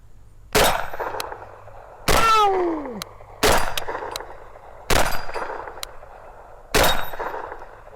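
Five loud, close gunshots from a KelTec Sub 2000 Gen 2 carbine fire at an unhurried pace, each a sharp crack with a short ringing tail, one with a clear metallic ping.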